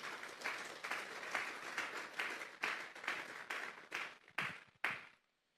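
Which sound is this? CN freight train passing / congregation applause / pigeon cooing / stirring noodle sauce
congregation applause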